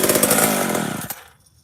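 A chainsaw engine with the choke on runs loud and close with a rough buzzing pulse, then cuts out abruptly, leaving near silence.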